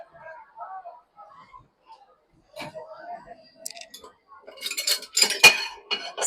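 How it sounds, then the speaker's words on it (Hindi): Spoons set one by one into the upper cutlery tray of a Bosch dishwasher, giving light metallic clinks and clatter that build to a busier burst near the end, with a voice faintly heard earlier. "सारे स्पून को मैं एक एक करके ऊपर जो कटलरी ट्रे दिया है उसमें मैं सारा एक एक करके डाल दूंगी।"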